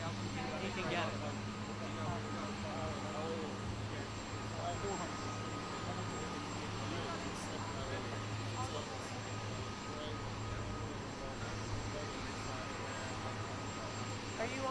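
A helicopter during an outdoor stop of a state visit gives off a continuous, steady engine and rotor drone that fills the whole stretch, with faint crowd voices underneath.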